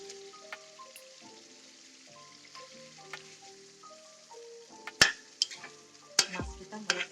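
Garam masala and fried fish frying in a pan, a soft steady sizzle under tonal background music, broken near the end by a few sharp knocks and scrapes of a utensil against the pan.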